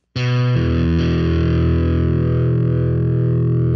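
An electric guitar with heavy distortion sounds an open E with its fifth, a B, as a loud, sustained, buzzing power chord that rings steadily for several seconds.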